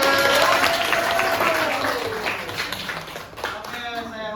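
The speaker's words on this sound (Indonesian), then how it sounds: "Tepuk tangan semuanya." An audience claps together after a teaching session in a lecture room, a dense burst of applause that starts loud and gradually thins, with voices talking over it.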